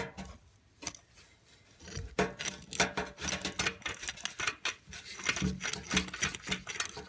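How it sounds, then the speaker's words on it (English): Ratchet wrench on long extensions backing out the top bolt of a Ford F-150 automatic transmission, a rapid series of clicking bursts with metallic handling noise, close and fairly loud, no talking. "Now we're going to just ratchet it off."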